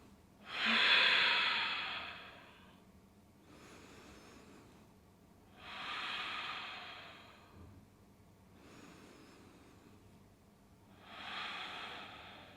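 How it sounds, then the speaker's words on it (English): Slow, deep breaths during a seated yoga twist stretch, four long airy inhales and exhales spaced evenly, close and soft with no talking. "Just settle in here for a few breaths."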